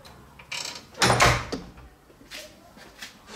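A shower door in a bathroom of a furnished seaside apartment slides and clunks shut at close range, a short rattling mechanical burst, with faint room noise before and after.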